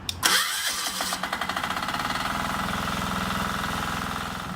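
A log splitter's engine is electric-started with the decompression lever held down, cranking in a quick run of rhythmic pulses before catching and settling into a steady, loud idle nearby.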